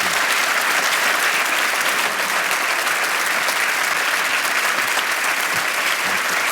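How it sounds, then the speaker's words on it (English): Sustained audience applause after a panel discussion at the Burgtheater, dense and even clapping from a large crowd throughout, loud and close without letup. "this is your applause for Alexandra Borchardt, Márton Gergely, and Matúš Kostolný"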